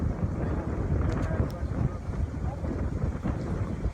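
Wind blows steadily across the microphone in a continuous low rumble, a dull outdoor roar that never lets up.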